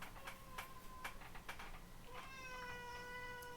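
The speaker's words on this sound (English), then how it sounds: "Oh my cat! What do you want out? You want out in the middle of the night?" A house cat meows at night, asking to be let outside, with a few short cries that turn into a longer drawn-out meow, faint and close in a quiet room, with soft ticking in the background.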